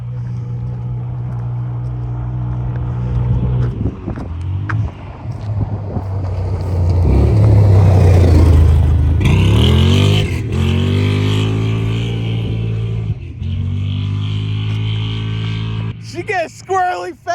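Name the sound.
CFMOTO ZForce side-by-side engine revving at speed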